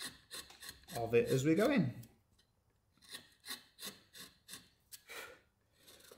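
A carving tool scrapes and rasps along the edge of a wooden love spoon, bevelling it in a series of short, close strokes, with someone speaking briefly in between.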